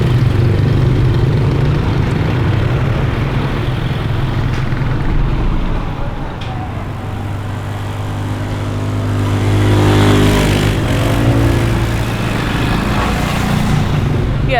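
Motorbikes and other traffic stream along a street in Vientiane, Laos: a constant engine drone that swells as bikes pass close, with people talking over it.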